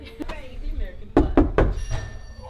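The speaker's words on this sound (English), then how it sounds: "No, you open the door. Welcome to our clubhouse. Knock, knock." Three quick, firm knocks land on a clubhouse door close by, with voices talking before and around them.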